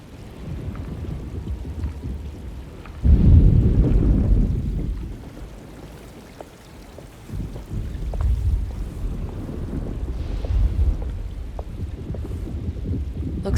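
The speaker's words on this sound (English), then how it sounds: "Looks like a storm's coming." In the video game Alone in the Dark, an approaching storm brings a loud, low rumble of thunder that swells and fades, followed by further rolling rumbles under a steady wash of rain and wind.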